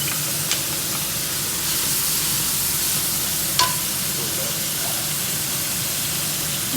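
Sausage and ground pork frying in a pan, a steady close sizzle and hiss running throughout, with a couple of faint clicks of a utensil and no talking.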